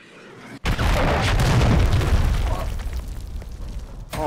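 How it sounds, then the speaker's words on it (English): A cruise missile explodes in a video game: a sudden heavy boom hits, then a broad roaring blast rumbles on loudly for several seconds before tapering slightly. "Hostile cruise missile incoming."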